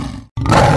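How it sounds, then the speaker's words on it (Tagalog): A lion's roar in an animated animal story, a loud broad growling burst that starts abruptly after a brief silence and holds steady to the end. "Sigaw ng isang leon."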